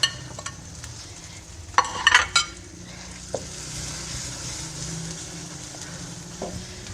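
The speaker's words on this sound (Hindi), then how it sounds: "उतनी देर तक भूनेंगे जितनी देर तक ये दोबारा से ऑयल ना छोड़ दे" Masala with coarsely ground dried coriander and fenugreek fries in oil for white chickpea curry, a steady close sizzle with a burst of stirring scrapes near the start and occasional light clinks.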